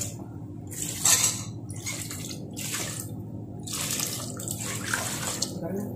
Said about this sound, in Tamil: அந்த கால் முழுகிற அளவுக்கு தண்ணி சேர்த்துக்கோங்க